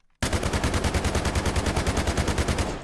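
A Scar H rifle without attachments, from the Delta Force video game, fires one loud, close, sustained automatic burst of about twenty evenly spaced shots after a brief silence, ending abruptly.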